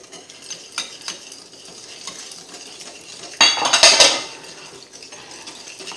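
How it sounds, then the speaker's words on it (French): Sugar and softened butter are stirred together in a bowl, with close scraping and clinking of a utensil against the sides and a louder burst of rapid mixing partway through. "on mélange le sucre d'abord et le beurre ramolli"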